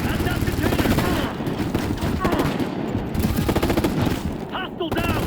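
Sustained rapid gunfire from the video game Ghost Recon Future Soldier rattles continuously and loudly in a busy combat mix, with voices talking over it.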